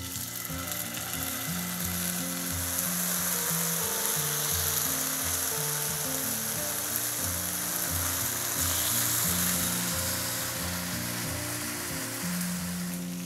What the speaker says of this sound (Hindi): ये जो हमने चिकन के पीसेस मैरिनेट करके रखे थे, अब मैं एक एक करके इन सबको डाल दूंगी पैन पे